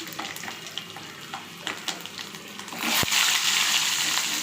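Dal browning in a pan with garlic cloves going in, scattered clinks and stirring over a sizzle that swells louder after a sharp knock, no voices.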